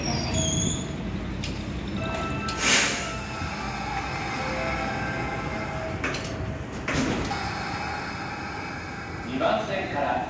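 A Kintetsu local train pulls into Amagasaki station with rumbling wheels, a brief squeal and door sounds, while people talk and station announcements play in the background.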